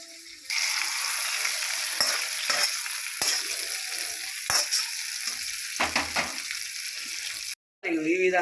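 Tempering spices sizzle steadily in hot oil for a tomato pickle made with red chillies, with scattered stirring clicks and scrapes over the frying hiss, and a brief voice near the end.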